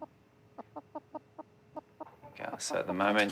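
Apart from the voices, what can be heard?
chicken clucking while being weighed at the vet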